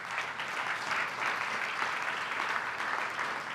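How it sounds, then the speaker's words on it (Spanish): A church congregation claps steadily for a few seconds, a dense, even wash of applause with no voices over it. "¿Le podemos dar un aplauso?"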